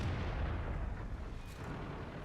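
A T-34 tank cannon firing in a tank video game: a heavy, rumbling boom with a long, noisy roll-off that fills the whole moment, loud and close.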